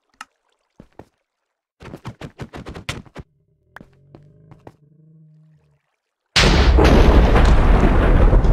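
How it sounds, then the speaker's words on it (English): A game explosion attributed to a time machine in a Minecraft adventure map. Scattered clicks and blocky thuds come first, then a sudden loud, sustained roaring blast takes over and continues to the end. "That explosion must have been from Mom's time machine."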